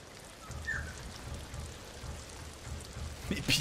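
Steady rain falls in the video game Ghost of Tsushima, a continuous broadband hiss with soft low rumbling throughout, fairly quiet and unbroken, with a brief brighter spatter near the end.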